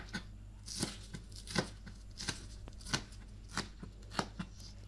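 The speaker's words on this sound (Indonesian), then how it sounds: "3 batang daun bawang dipotong besar-besar." A knife chops spring onions quickly against a cutting board, with about ten faint, irregularly spaced cuts and no voices.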